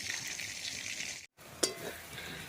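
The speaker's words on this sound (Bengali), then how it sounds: "মশলাটা কষা হয়ে গেছে," Bengali fish jhal spice paste frying in oil until the oil separates: a steady close hiss of sizzling with stirring scrapes, a brief cut of silence partway, then a sharp clink and continued frying.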